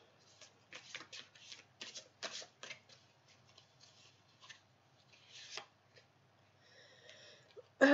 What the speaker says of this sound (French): je vais vous sortir une carte comme ça